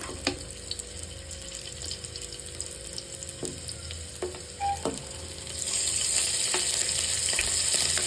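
Garlic dropped into hot oil already crackling with mustard seeds and cumin, a steady close sizzle with occasional clicks of stirring that swells louder and brighter toward the end.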